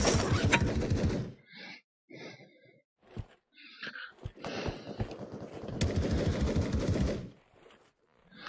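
Bursts of automatic gunfire from a gun in the virtual-reality shooter Pavlov VR come in two long sustained runs separated by a lull with scattered single shots, loud and near.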